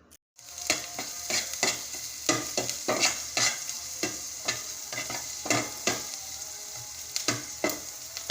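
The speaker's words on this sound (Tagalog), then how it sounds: "simulan ko na ang pag-gisa sa nakon masarap and delisyoso na ulam" Garlic and onion sauté in a pan, a continuous close sizzle punctuated by regular, rhythmic spatula scrapes and taps over about eight seconds, with no talking.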